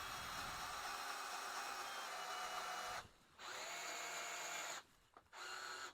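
A Bosch GSR 12V-15 cordless drill running in drill mode into a workpiece, a loud steady whirring drone broken by two brief stops before spinning up again.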